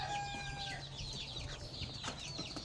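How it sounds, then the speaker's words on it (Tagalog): Several farm chickens cluck and call around the yard, with short chirpy notes and a few louder squawks layered over steady background noise. "Ang ating mga manok, ang dami din."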